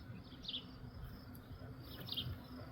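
Honey bees from a swarm, shut inside a hive with the entrance blocked, hum in a low, steady drone with a few brief higher buzzes of single bees passing close.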